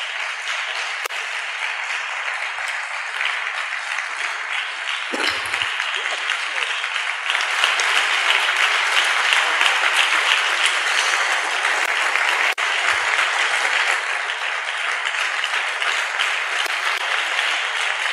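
A church congregation gives sustained, loud applause and acclamation during a French-language service, a dense, steady wash of clapping that builds midway and continues unbroken with a few faint shouts.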